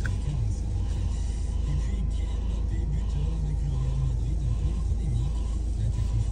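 Steady low engine rumble and road noise inside a moving car, constant and close throughout with no pauses, carrying a faint murmur of a voice in the cabin.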